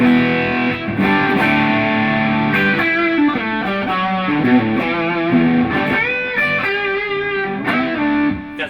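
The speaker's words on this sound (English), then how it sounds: "There's not a huge amount of drive in that sound." Overdriven electric guitar chords and riffs through a Diamond J-Drive Mk3 pedal with drive turned fully up, a gritty, distorted tone, playing steadily and loud throughout with no talking.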